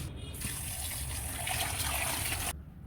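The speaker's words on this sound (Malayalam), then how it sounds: "പോർക്കിനെ നല്ല രീതിയിൽ വാഷ് ചെയ്തെടുക്കാം" Tap water gushes steadily over cut pork pieces being washed, a continuous close splashing stream that stops abruptly near the end.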